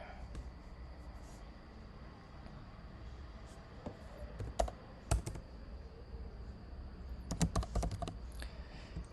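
Quiet computer keyboard typing while a Python program is written, scattered keystrokes at first, then a couple of brisk clusters of clicks, soft and close against low background hiss.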